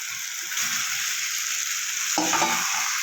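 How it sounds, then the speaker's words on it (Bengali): Fried potatoes and cauliflower go into sizzling masala in hot oil and get stirred, a loud continuous sizzle with a few close scraping stirs of the spoon against the pan. "এবার আমি দিয়ে দেবো ভেজে রাখা আলু আর ফুলকপিটা"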